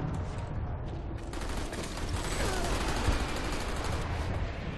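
Rapid automatic gunfire from the online shooter game Planetside 2, a dense continuous barrage of overlapping shots with battle noise filling the whole stretch, loud and steady without a pause.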